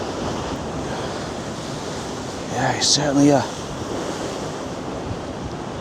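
Stormy high sea waves crash and surge along the Blackpool seafront, a continuous loud wash of surf with heavy wind noise buffeting the microphone as someone talks briefly partway through.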